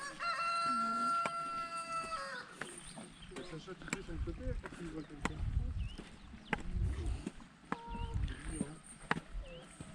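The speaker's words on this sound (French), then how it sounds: "Il est beau le coq." A rooster crows repeatedly in a mountain village near Sapa, the calls clear and moderately close, followed by scattered clucks and footsteps while people chat nearby.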